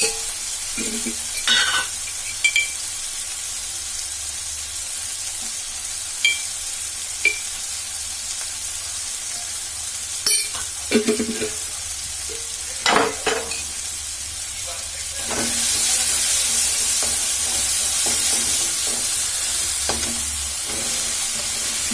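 Spices and tipri kayi stirred and frying in a pan on a low gas flame, with repeated scraping stir strokes over a steady sizzle that grows louder and hissier toward the end; no talking.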